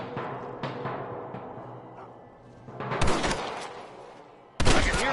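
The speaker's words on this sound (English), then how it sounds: "I can hear more gunshots." Gunfire rings out in the western video game Red Dead Redemption, a few distant shots followed by two loud, sharp bursts close by, with no talking.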